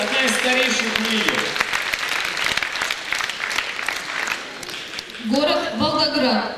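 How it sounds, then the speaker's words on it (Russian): An audience applauds during a KVN comedy contest, steady clapping filling the room while a presenter speaks over it at the start and again near the end. "Ваши аплодисменты."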